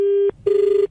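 A telephone rings in two clean electronic bursts, the first steady tone cut off, then after a brief gap a second pulsing ring, loud and close with no talk.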